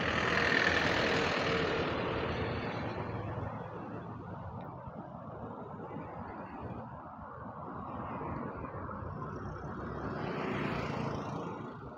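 Sunday road traffic on the Khambatki Ghat mountain road forms a continuous broad roar of passing engines and tyres, swelling and easing slightly over the stretch, with no clear single vehicle standing out.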